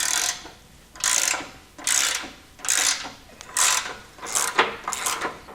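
Socket wrench ratcheting on the front tow hook nut and bolt of a vehicle, in six or so bursts of rapid clicking about a second apart, close and clear.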